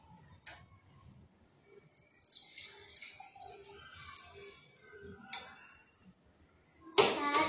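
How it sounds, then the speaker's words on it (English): Water poured into an empty glass jar for a simple classroom experiment, with trickling and splashing building over several seconds, ending in a louder burst. "Fill the empty glass jar water."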